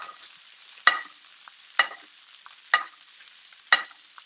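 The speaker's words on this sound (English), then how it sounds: "So you want to just baste this with butter for about 30 seconds." Butter bastes meat in a hot pan. A faint sizzle runs underneath, and four evenly spaced spoon splashes and scrapes stand out above it.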